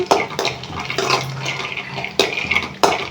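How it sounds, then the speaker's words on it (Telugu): Peanuts dry roasting in a pan, with dry rattling and a spoon scraping and clinking against the metal as they are stirred, close and fairly loud, with sharp knocks recurring irregularly. "ఒక చిన్న రెండు స్పూన్ల పల్లీలు వేసుకొని ఇలా దూరగా వేయించుకోవాలి"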